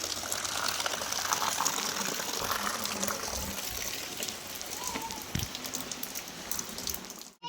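Rain falls steadily over a village field, making a dense, even hiss of drops that runs throughout without a break. No one talks.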